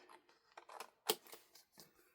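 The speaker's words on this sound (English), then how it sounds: "get your scissors and cut off the edges" Scissors trim the edges off a sheet of craft paper with quiet, close snips and rustles, one crisper cut standing out among the softer sounds.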